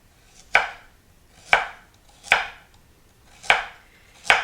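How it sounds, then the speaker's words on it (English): A knife thinly slices peeled celery stalks on a board, five crisp, evenly spaced cuts about a second apart, each a sharp close knock that fades quickly. "I'm just going to thinly slice them."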